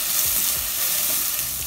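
Garlic with salt sautés in a pan for a vegetable stroganoff while it is stirred, making a continuous close, even sizzle with faint scraping underneath.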